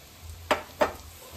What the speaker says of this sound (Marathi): ही डाळ सुद्धा ह्याच्यामध्ये मस्तपैकी अशी मिक्स करून परतून घ्यायची.